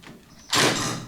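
A barn-type sliding door rolls along its track and closes with a single abrupt, loud thud, then leaves a brief rattling tail.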